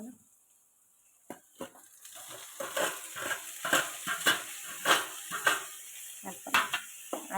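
A spoon scrapes and stirs tomato and green chilli in a sizzling pan, repeated rhythmic strokes building after a quiet start, close and clear.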